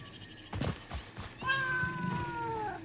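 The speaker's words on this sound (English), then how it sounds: "I can hear cats." Giant cats in the video game Satisfactory, arachnophobia mode, meow loudly, with several drawn-out yowls following a few thumping footsteps, close and clear with no talk over them.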